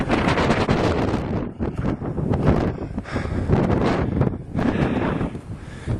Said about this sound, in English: it's snow gusting all across the open field there.